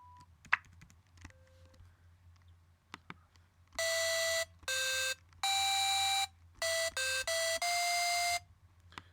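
A synthesizer plays bright buzzy tones blending square and sine waveforms, a string of short sustained notes at shifting pitches in uneven bursts, loud and alone after a few soft clicks at the start.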